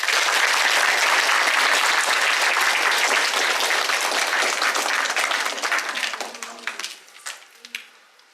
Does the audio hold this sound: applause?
yes